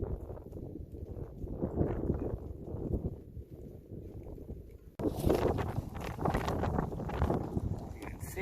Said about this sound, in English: You can see the wind's really blowing, and it's coming from the east, actually.